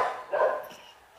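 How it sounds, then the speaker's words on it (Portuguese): Neighbourhood dogs bark from somewhere outside, a short muffled burst of a bark or two that rises and fades, distant and fairly faint. "Eu odeio essa vizinhança que os cachorros não calam a boca!"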